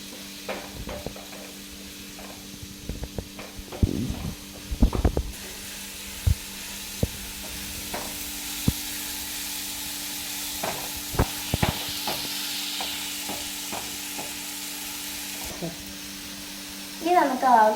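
Tomatoes and green chillies fry in a pan under a faint, soft sizzle, with scattered scrapes and knocks of a spoon stirring, some louder clatters, and quiet talk in the background.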